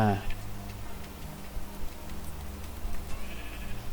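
A Minecraft sheep gives a single short bleat at the very start, then a faint ticking and hum continue under a low, steady game background.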